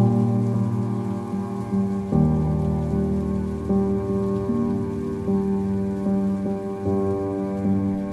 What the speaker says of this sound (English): A little purple rain coming down.